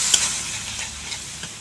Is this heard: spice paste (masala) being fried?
yes